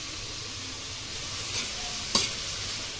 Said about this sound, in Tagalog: Pagkalagay po natin ng tauge, halu-haluin po natin.